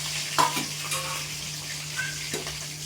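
Curry leaves, green chili and ginger frying in hot oil in a pan, a steady soft sizzle with occasional stirring clinks and scrapes, close up and without voices.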